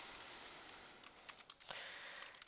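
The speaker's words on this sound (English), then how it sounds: "So let's go ahead and start typing that in." Light, quick keystrokes on a computer keyboard patter in a short irregular burst over a steady hiss, fairly quiet and close, with no talking.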